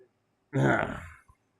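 A single loud, close belch swells and trails off over about a second, followed by a faint click.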